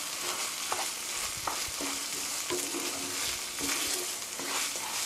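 Meat sauce with ketchup stir-fried in a pan, a steady frying sizzle under a series of spatula scrapes and stirs, close and even throughout, no voices.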